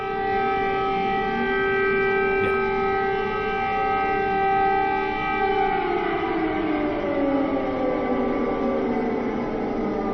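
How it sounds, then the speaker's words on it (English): Air raid sirens wail continuously on a live news feed during the Ukraine invasion, a steady layered tone with long harmonic bands that slowly bends downward in pitch toward the end, loud and filling the whole clip with no talk. "these are the sirens from a moment ago"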